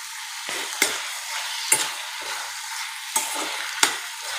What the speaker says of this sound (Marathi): आता आपण यामध्ये थोडेसे बदाम कुटून घेतलेले आहेत ते टाकूया। यालाही छान मिक्स करून घेऊया